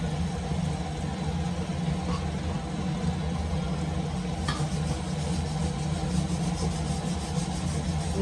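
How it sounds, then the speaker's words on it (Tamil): A pot of tamarind curry with eggs bubbles and simmers steadily, a constant dense hiss and gurgle with no voices. "குழம்பு நல்லா கொதிச்சுட்டு இருக்கு"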